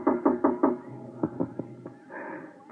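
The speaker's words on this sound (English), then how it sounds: "There was a knock on my door." Radio drama door knock: four quick, solid raps on a wooden door, followed after a brief pause by a few softer, more scattered knocks, close and dry against a quiet background.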